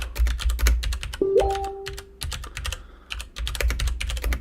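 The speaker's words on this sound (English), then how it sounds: "I'm typing secret stuff." Close, rapid typing on a computer keyboard, with bursts of crisp key clicks separated by short pauses, and a brief electronic tone sounding partway through.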